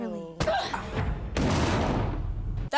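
A gunshot in a dramatic TV episode of Wynonna Earp: a tonal voice-like sound first, then a sharp crack and a second loud burst with a decaying boom, near and loud.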